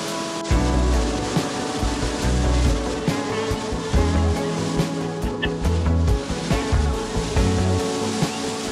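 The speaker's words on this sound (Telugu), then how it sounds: "వాటర్ ఫ్లో పెద్దగానే ఉంది. ఇది డ్యామ్ నుంచి స్పిల్ ఓవరా లేకపోతే ఏంటో మరి చూపిస్తాను" Water rushes heavily from a dam spillover or waterfall at a crowded Lonavala tourist spot, a loud steady roar mixed with clattering bursts and the noise of people nearby.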